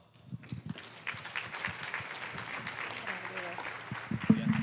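A small audience at an education summer institute session claps for a speaker, scattered light clapping building up under background movement, with a voice briefly audible near the end.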